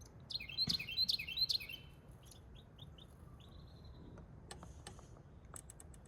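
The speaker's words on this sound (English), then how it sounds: "Of course, I turn it and the little birds show up." Small birds chirp in quick bright bursts, several sharp tweets close together, then scattered thinner calls over a quiet outdoor hiss.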